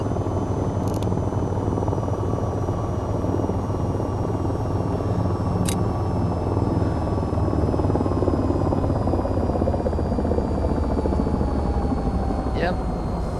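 Aircraft engine in the VTOL VR game roars loud and steady from inside the cockpit, a dense continuous drone with a faint high whine running through it and a voice speaking over it.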